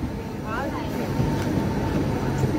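Station noise around the Delhi to Pune special express as it stands at the platform near Kalyan: a steady low rumble and hum with a faint squeal, continuous and fairly close, with people talking under it.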